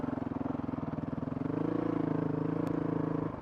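Honda CRF 450 RL motorcycle engine with an aftermarket ECU, idling then blipped in first gear, a steady pulsing thump that rises briefly in pitch and loudness near the middle, close up and alone.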